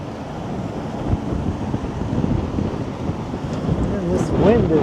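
Bitter cold wind blows outdoors on a Toronto street in winter, a constant low roar buffeting the microphone and swelling toward the end, with faint whistling near the close.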